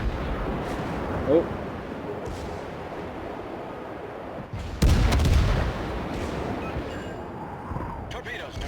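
Naval guns firing in a warship video game with a deep booming salvo amid continuous rumbling battle noise, and a brief spoken exclamation.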